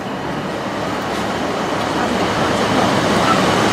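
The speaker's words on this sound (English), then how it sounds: "this is our next train now, Clitheroe" A passenger train on the Clitheroe service pulls into a station, a steady, loud broadband rumble of wheels and running gear that builds slightly over several seconds, with no talk.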